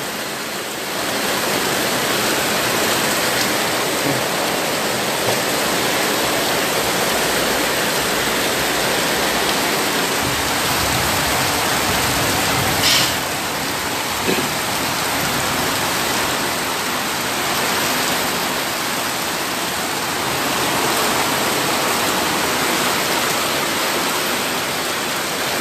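Heavy rain pouring down outdoors at a rabbitry during feeding time, a loud, continuous broadband hiss like a downpour or runoff that stays steady throughout, with no voices.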